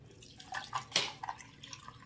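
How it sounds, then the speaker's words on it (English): A white chocolate raspberry coffee drink is poured over ice, giving soft, scattered splashes and trickles with a brighter burst near the middle, fairly quiet and close. "So now I just pour it over ice."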